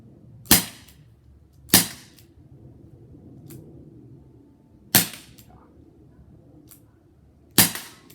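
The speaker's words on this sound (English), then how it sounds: "Shoot the small one, the Revolver one, in the middle." Crosman SNR 357 air revolver firing four sharp, close shots at uneven intervals, each a crisp crack with a short tail over a faint, low background hum.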